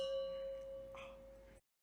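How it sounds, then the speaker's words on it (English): A chime sample triggered from a keyboard key and pitched up four semitones rings out as one sustained bell-like tone with a brighter second strike near the end, then cuts off abruptly. "is my first chime sound"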